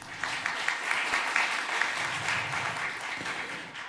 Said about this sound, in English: I would like to applaud to Polish-Ukrainian Startup team